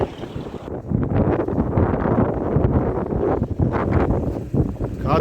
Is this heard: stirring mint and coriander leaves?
no